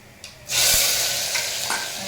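Mung lentils hit a hot pan with fried ginger and burst into a loud, steady sizzle that continues as they fry, with a faint stir or two.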